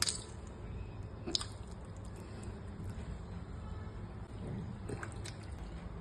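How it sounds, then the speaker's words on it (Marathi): Soft wet squishing and faint drips as raw chicken is squeezed by hand to remove water, close and quiet, with a few sharper clicks. "चिकनमधलं बघा मी सगळं पाणी पिळून काढलेलं आहे"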